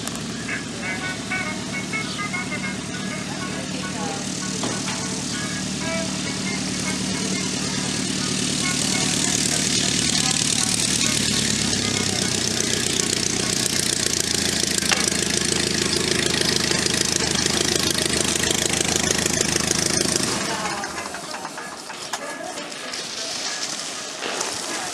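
A vintage war-surplus airplane engine at an aerodrome runs with a steady, rough drone that rises slightly midway and then drops off near the end, while someone speaks over it.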